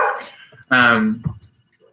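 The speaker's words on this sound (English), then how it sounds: "I am house sitting, so there's dogs in the background. So if you hear puppies, they'll be okay." Dogs at a house bark a few times in the background, one loud burst standing out among brief yips, with a person talking before and after.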